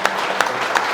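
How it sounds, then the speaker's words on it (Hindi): Brief burst of audience applause at a talk event, a few sharp claps standing out over a dense steady patter for about a second. "तो एक बार खुद अपने आप के लिए जोरदार ताली बजाएं"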